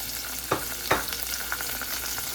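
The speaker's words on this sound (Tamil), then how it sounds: "வெங்காயம் வதங்கிட்டுருக்கு" Chopped onions sautéing for a mushroom gravy, a loud steady sizzle filling the pan with two sharper stirring scrapes near the start, close and without talk.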